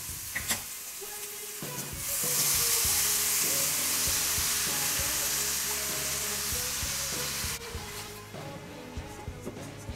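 Glutinous rice sizzles and crackles loudly as it is stir-fried with dried shrimp in a hot wok, with a steady frying hiss and scraping stirs, and no voices.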